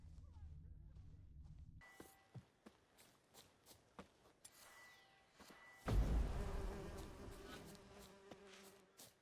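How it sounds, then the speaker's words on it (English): A hornet's nest in the video game Witcher 3 gives off a faint insect buzz among quiet game sounds. Light footstep-like taps run through it, then a louder whooshing swell follows. "Hornet's nest."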